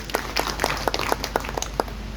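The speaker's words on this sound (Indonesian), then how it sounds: "Tepuk tangan sekali lagi" Scattered, uneven clapping from a gathered audience at a community event in Minahasa, North Sulawesi, a few distinct claps standing out over a light background of hands.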